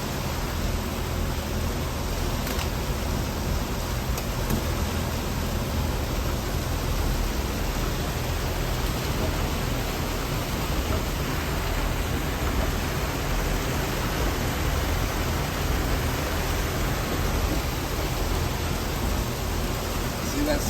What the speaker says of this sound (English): Yeah, it's starting to rain hard now.